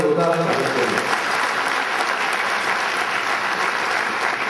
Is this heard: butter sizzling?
no